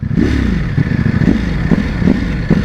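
Loud 2021 Ducati Panigale V4S motorcycle engine with standard exhaust close by, rumbling with rhythmic revving surges and a throaty exhaust note, running steadily throughout.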